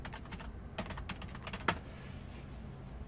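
Someone types a password on a computer keyboard, a short burst of soft, close key clicks in an uneven rhythm, with one sharper keystroke near the end before the tapping falls quiet.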